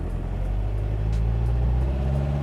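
A 1956 Porsche 550 Spyder engine of about 170 horsepower runs at a steady low rumble as the car begins to roll forward from a standstill, close and continuous with no talking.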